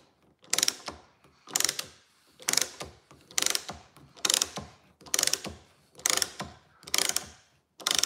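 A rivet nut setting tool is ratcheted tight, giving eight evenly spaced clicking ratchet bursts about once a second, close and crisp with quiet gaps between.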